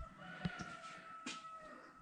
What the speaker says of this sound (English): rooster's looking for me.